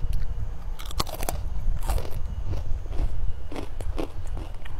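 Crunchy fried mushroom chips bitten and chewed close to the mic, a dense run of loud, brittle crunches and crackles lasting several seconds, with no one talking.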